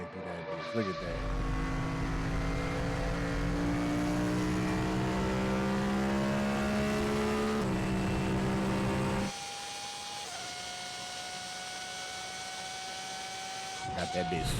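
A Pagani supercar engine screams through rising gear pulls on a passenger lap, a loud high whine that climbs in pitch and then drops off to a lower steady drone, with a voice talking over it.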